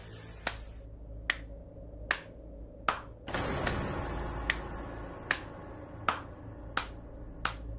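A single person claps slowly and deliberately, about a dozen sharp, evenly spaced claps in a quiet room, with a short burst of louder background noise midway.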